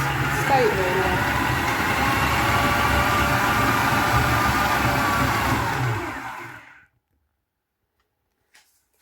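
An electric mixer whirs loudly and steadily through chocolate cookie dough for about six seconds, then stops abruptly, leaving near silence.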